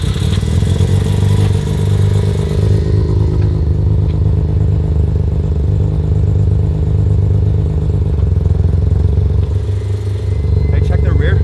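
A Mazda RX7 engine, just started and running roughly, chugs loud and close with an uneven low rumble and fluctuating revs, while people talk over it.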